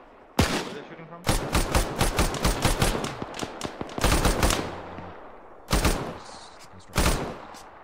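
Gunfire rings out in Arma 3 with loud close bursts of automatic fire, one long rattling string and several shorter volleys separated by brief pauses, with a faint voice in the gaps.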